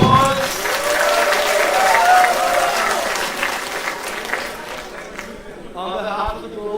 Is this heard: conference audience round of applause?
yes